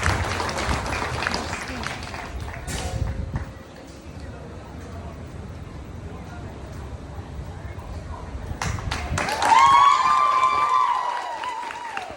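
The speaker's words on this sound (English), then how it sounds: "let's go ahead and give these three young people a big round of applause" Audience applause for three young winners at a youth beef breeding livestock show, a steady mass of clapping from a crowd that swells near the end, with a voice rising over it.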